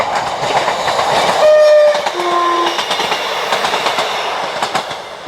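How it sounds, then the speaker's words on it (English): A train rumbles past nearby with a steady loud roar and rhythmic clacking, and its horn sounds briefly early on. "oh, here comes the train"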